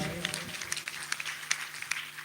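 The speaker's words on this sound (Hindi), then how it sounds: "ताली बजा के स्वागत करो भाई।" Audience at a Kabir satsang gathering applauds in welcome, a crowd of scattered, crisp hand claps rolling on steadily at moderate loudness with a faint voice underneath.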